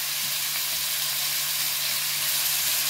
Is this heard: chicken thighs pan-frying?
yes